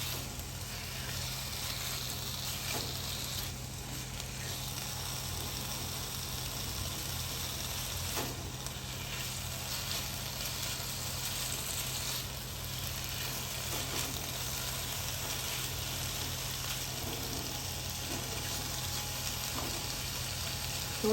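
Chicken for a paratha roll fries in a pan with a soft, constant sizzle, quiet and unbroken from start to finish with no voices.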